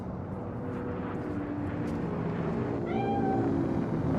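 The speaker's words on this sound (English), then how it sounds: "It's just a cat." A cat meows once in the video game Cyberpunk 2077, a short, clear call heard over a steady, loud low hum of background ambience.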